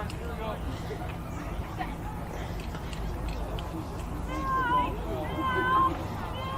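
Players in a baseball dugout meow like cats in imitation during a game, their rising, wavering calls clustering near the end over an announcer's talk and background crowd chatter.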